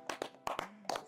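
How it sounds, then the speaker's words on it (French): A few sharp, separate hand claps in a gym, about six quick bursts in roughly a second, close and fairly quiet with no talk. "On peut l'applaudir, je crois."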